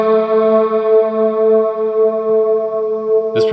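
An electric guitar swell drenched in quarter note delay and cloud reverb from a Big Sky pedal: a sustained, harmonically rich note holds loud and smooth for several seconds, ending in a brief burst of noise.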